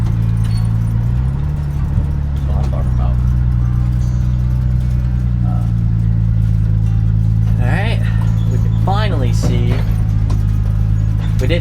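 A turbocharged Ford 300 inline six truck pulling into a gas station, its engine holding a steady low rumble throughout with a brief shift in pitch near the start, while someone talks over it.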